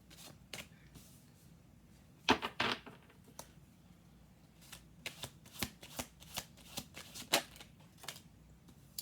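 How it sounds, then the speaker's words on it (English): Tarot cards are shuffled by hand in a quiet room, producing soft riffling bursts and crisp flicks that come in clusters, close and fairly faint, with no speech. "We'll do two more shuffles."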